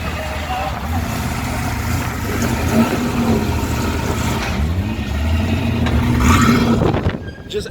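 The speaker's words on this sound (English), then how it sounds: "apparently it's a S65 engine from the BMW E92 M3" A race car powered by a BMW E92 M3 S65 V8 runs at a steady idle close by, a low continuous rumble, while people talk over it before the sound cuts out at the end.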